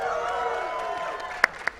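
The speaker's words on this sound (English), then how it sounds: "Cheer for the games you love, people." A crowd cheers and whoops at a Sonic the Hedgehog 25th anniversary panel at SXSW, a broad sustained roar of voices with a couple of sharp claps or shouts near the end.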